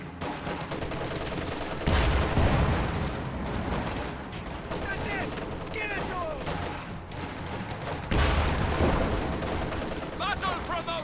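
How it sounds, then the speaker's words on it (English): Dense HE shell blasts and gunfire from a World War II real-time strategy battle between US Forces and Oberkommando West, with repeated bursts and heavy impacts running continuously and a couple of louder low booms. "HE shells continuing to deal heavy damage to those Volksgrenadiers"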